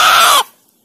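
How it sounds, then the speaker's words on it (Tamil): Rooster at a hill temple in Tamil Nadu giving a single loud, close, hoarse call that cuts off abruptly. "சேவல்"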